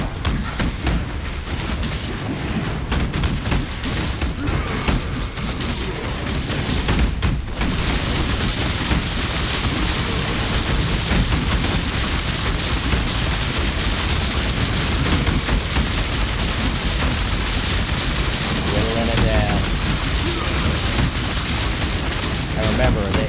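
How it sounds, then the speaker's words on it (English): Repeated AOE grenade explosions in the action RPG Path of Exile, a dense continuous barrage of booming blasts and combat effects at steady loudness throughout. "I got AOE grenades, so I'll be hitting them the whole time."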